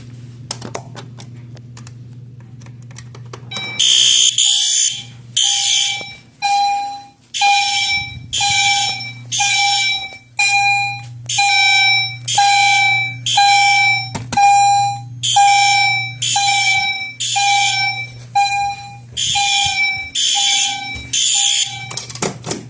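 EI3 fire alarm system under test: a steady low hum, then a loud, close sounder pulsing rhythmically with bright tones, about twenty regular bursts that run on without a break.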